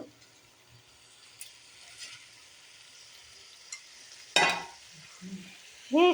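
Chicken pieces go into a pan of cooked masala, with a low background sizzle, a sharp burst of frying at the drop, then a few stirring scrapes and clinks.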